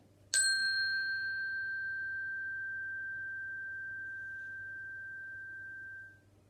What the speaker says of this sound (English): listen for the chime